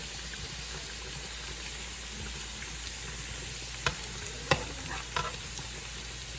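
Garlic browns in oil in a pan, a soft, steady sizzle with a few sharp clicks of a utensil against the pan, no talking.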